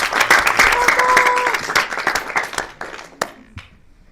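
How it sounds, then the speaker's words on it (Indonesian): An audience in a room breaks into brisk, close applause, many hands clapping densely for about two seconds before thinning out into a few scattered final claps. "Oke, kasih tepuk tangan untuk dewonya deh."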